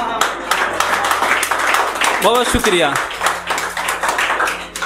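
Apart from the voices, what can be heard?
audience clapping at a poetry reading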